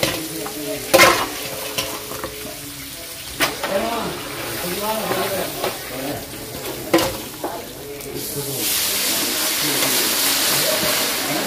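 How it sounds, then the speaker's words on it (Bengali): Fish fries in a pan for a Bangladeshi annaprashan rice-feeding feast, a steady sizzle broken by scraping stirs and clanks, with voices talking in the background. "এখন মাছ ভাজা হচ্ছে"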